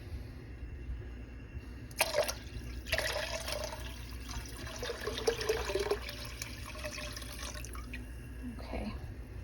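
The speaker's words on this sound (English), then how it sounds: "I'm gonna add the rest of my water at this point" Water is poured into a homemade dog food of TVP and oats, with splashing and trickling in bursts over several seconds, fairly close and moderately loud.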